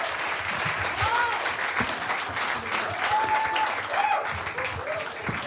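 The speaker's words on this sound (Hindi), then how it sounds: "गुजराल के लिए, जोरदार तालियां।" An audience at a Hindi comedy crowdwork show applauds a comedian, sustained clapping filling the room at moderate volume, with a few voices and whistles rising over it.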